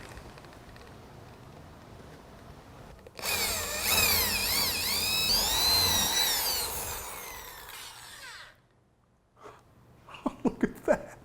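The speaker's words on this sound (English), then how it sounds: "that's going to guide our hole saw as we remove this fastener" A hole saw drills into a workbench around a stripped screw, starting abruptly with a loud, close whine and grinding cut for about five seconds before stopping, followed by breathing and a few sharp knocks.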